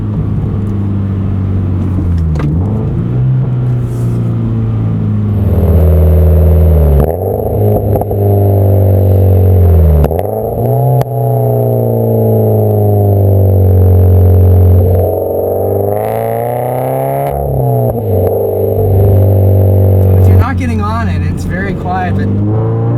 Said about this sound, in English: I'm gonna do a few downshifts here.